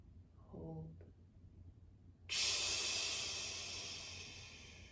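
A slow breathing exercise: after a brief word, a long, loud hissing exhale starts and slowly fades, close to the listener.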